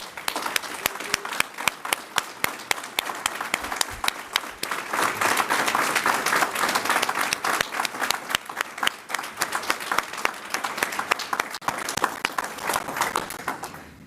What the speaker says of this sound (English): give CHI St. Joseph Health a final and rousing round of applause